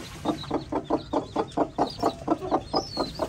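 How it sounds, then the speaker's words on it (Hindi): A hen clucks in a steady run of about a dozen short, close calls, evenly spaced, with faint chirps of chicks above. "ये मुर्गी है जनाब"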